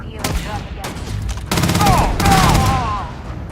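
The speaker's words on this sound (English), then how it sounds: "He's shooting my face and I'm just standing here letting him hit at me." Rapid gunfire in the PC game Starfield, loud bursts of shots with a faint voice underneath.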